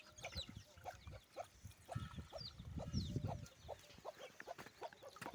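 Hens on a farm cluck in soft, scattered bursts as they drink water in the morning, with quiet, close calls repeating irregularly in a calm setting.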